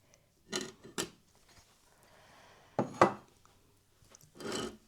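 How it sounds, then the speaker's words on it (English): Granulated sugar is tipped into a foaming sugar scrub mixture, with several short gritty scraping and pouring bursts separated by near silence, close and fairly quiet. "the final thing we need to do is just add in all of our sugar into the mix"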